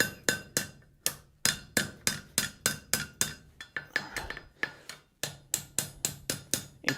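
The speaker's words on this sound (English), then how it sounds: "I'm gonna bend this thing right around the horn of the anvil if I can" Ringing hammer blows on hot steel at a blacksmith's anvil, bending a punched coat-hook blank around the horn: about twenty sharp, evenly paced metallic strikes, close and loud, with a brief irregular pause midway.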